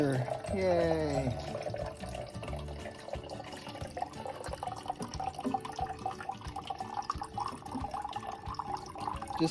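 Water runs steadily from a sink tap for several seconds, a continuous splashing rush with drips, while a person talks over it indoors.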